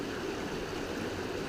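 Creek water rushing steadily over rocks at a trail crossing in the Sipsey Wilderness, a dense, continuous close-up burble with no voices.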